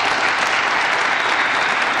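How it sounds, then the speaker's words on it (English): An audience at a question-and-answer session on revolution in the Arab world claps steadily, a dense, loud burst of applause that fills the room without a break and with no voice on top. "you can't applaud that point, I see"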